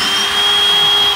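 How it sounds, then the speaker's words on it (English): A slow, single-speed power drill whines steadily and loudly while taking apart a short bus, one continuous tone with no talk. "The drill's got one speed, and this drill is the one speed."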